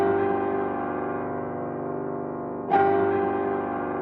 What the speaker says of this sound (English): just turned it into like a super low and dark piano